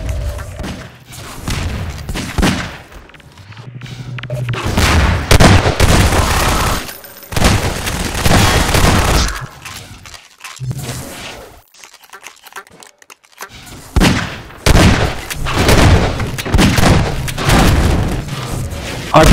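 Rocket launcher blasts and gunfire in a Half-Life 2 Deathmatch match, a run of loud booms and rapid shots in bursts with short quiet gaps between them.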